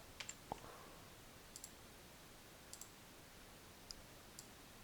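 Computer mouse clicks, scattered faint sharp clicks, some in quick pairs, spread across a few seconds of quiet room noise without talk.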